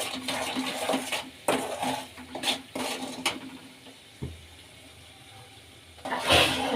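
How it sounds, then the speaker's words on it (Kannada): A spoon stirs cumin powder and turmeric in hot oil in a pan while making mango pickle, giving repeated close metallic scrapes and clinks against the pan over a soft background hiss. "ಈಗ ಚೆನ್ನಾಗಿ ಮಿಕ್ಸ್ ಮಾಡ್ಕೊಳ್ಳೋಣ. ಮತ್ತು ಇವೆಲ್ಲ ಎಣ್ಣೆಲೆ ಚೆನ್ನಾಗಿ ಫ್ರೈ ಆಗಲಿ."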